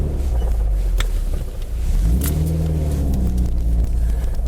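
A modified 2005 Subaru Legacy GT wagon with a custom-built exhaust accelerates nearby, its deep rumbling exhaust note rising steadily in pitch with no talking over it.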